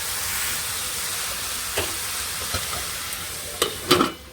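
Washed greens cook in a kadai, producing a continuous soft hiss with a few scattered utensil clinks, then a louder clatter of metal near the end.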